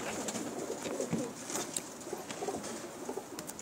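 Pakistani pigeons coo softly on a rooftop in Jeddah, their low calls repeating under a busy, noisy outdoor background.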